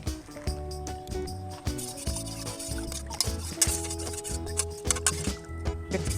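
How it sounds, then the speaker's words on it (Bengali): Glue is stirred into water to make slime, with repeated rhythmic scraping, sloshing strokes close up and a faint tonal hum running beneath. "তো এবার আমি এই আঠাটি জলের সঙ্গে খুব ভালোভাবে মিশিয়ে দেবো।"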